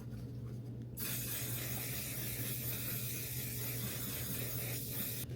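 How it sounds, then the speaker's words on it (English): One Size makeup setting spray misted over a finished face, a steady fine hiss running almost the whole time after a quick start, close and fairly quiet, with a low hum underneath and no talking. "I'm going to use my One Size Setting Spray again, and then just set everything in place."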